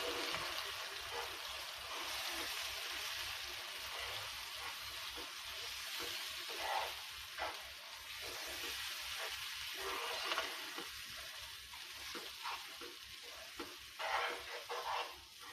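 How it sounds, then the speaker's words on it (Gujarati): Gujarati buttermilk handvo batter poured into a hot pan on low gas and mixed: continuous soft sizzling and frying hiss with faint stirring scrapes throughout, steady and moderately quiet, no talking. "હવે ધીમો ગેસ કરી તેમાં બેટર નાખીશું. મિક્સ કરી લઈશું."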